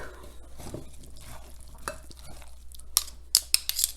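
A raw apple crumble mixture is tossed and stirred by hand, giving soft rustling scrapes that turn into a quick cluster of sharper, louder clicks and scrapes near the end, with no talking.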